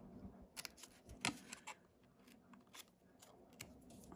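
Scissors snip paper during a craft project, cutting angled corners off a memory box piece. A handful of quiet, crisp cuts come in an irregular rhythm, close by and otherwise alone.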